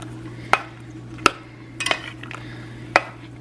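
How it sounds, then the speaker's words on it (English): A spoon stirs allspice into cranberry sauce in a pot, giving a few sharp metallic clinks against the rim spaced irregularly over a low steady hum, with no talking. "So you want to stir that allspice in."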